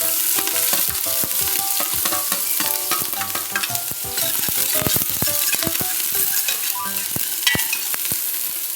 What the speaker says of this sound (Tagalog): Maglagay ng mantika sa mainit na cooking pot. At ilagay una ang sibuyas,